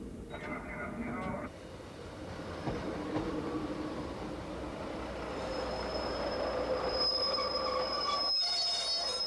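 A train on the Far North line in the UK, 1991, rolls along the rails with metallic squeals and a rumbling hum, the wheel screech rising and ringing out toward the end.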